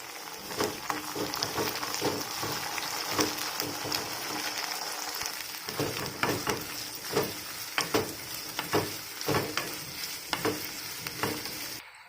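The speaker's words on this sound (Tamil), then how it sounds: "வெங்காயம் நல்லா வதங்கட்டு" Onion fries in oil with garlic for a Tamil garlic kuzhambu, a continuous close sizzle broken by frequent scraping stirs that keep a loose rhythm, and no voice is heard.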